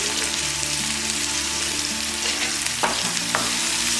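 Fish pieces tossed with turmeric and salt in a hot pan, a loud continuous sizzle and frying hiss with a couple of sharp scrape clicks near the end, no voices.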